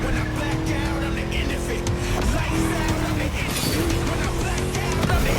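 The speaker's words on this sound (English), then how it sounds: "Just listen to that V8, like a chunky, down-tuned guitar riff." A V8 car engine in the racing video game The Crew Motorfest roars continuously at close range, a deep, throaty drone with shifting pitch as the car races along.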